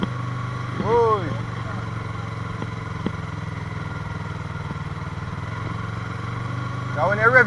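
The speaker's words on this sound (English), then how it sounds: "clutch in and just rev it. Second gear. And rev." A Yamaha R3 sport motorcycle idles with a steady mid-pitched engine drone, rising in two short revs near the start and end while in neutral and then second gear.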